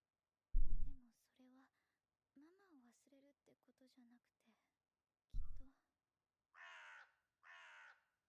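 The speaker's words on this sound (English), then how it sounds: "I fucking hate the sound of crows." Crows caw from an anime episode, two harsh calls near the end after a stretch of talking voices and whispers.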